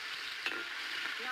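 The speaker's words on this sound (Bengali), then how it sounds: "নাড়া দাও নাড়া দাও।" Onions frying in a pan are stirred, a steady broadband sizzle with a brief scrape of the spoon partway through, close and continuous.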